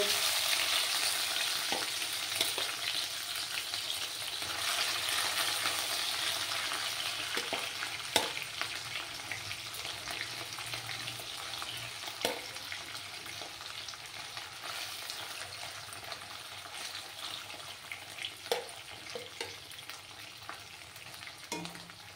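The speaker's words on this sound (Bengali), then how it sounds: "এবার মাছগুলো দিয়ে দেব।" Small mourala fish frying in hot oil on a lowered gas flame, a steady loud sizzle throughout with occasional sharp pops and crackles, no voices.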